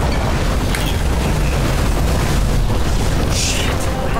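A fuse blows in the video game Nobody Wants to Die: a deep, loud boom with a rumbling burst that fills the whole clip, followed by a brief crackling hiss near the end.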